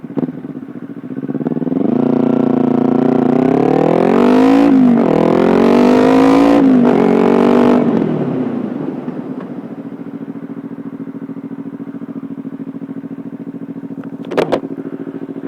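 A Kawasaki Ninja 300 motorcycle engine runs and revs as the bike rolls, then the pitch winds down as it brakes with front and rear brakes to a stop and settles into a steady idle.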